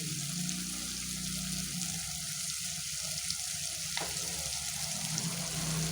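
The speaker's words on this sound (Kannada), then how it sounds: "ಪಾಸ್ತಾ ಸಾಸ್ ಹಾಕ್ತಾ ಇದ್ದೀನಿ." Pasta sauce going into a hot pan on a stove over medium flame, giving a steady soft sizzle and frying hiss with faint stirring scrapes, continuous and fairly quiet.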